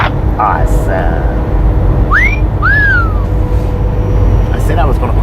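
A person whistles two short rising-falling notes in the cab of a long-haul truck on the road, the tune fairly clear over a steady road and engine rumble, with brief talk around it.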